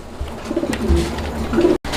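At a pigeon farm, pigeons give soft low coos close by for about two seconds, with a brief dropout near the end.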